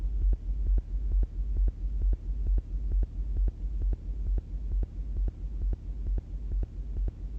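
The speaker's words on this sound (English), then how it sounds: "I pretty much just have to get it up a little bit past 50 hertz because that's about where that hum is." A steady low hum sits at the bottom of a techno track, pulsing under a regular throbbing kick that thumps evenly and loudly across the whole stretch with no voices.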